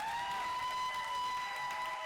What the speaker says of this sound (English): Can we give these 3 a round of applause one more time?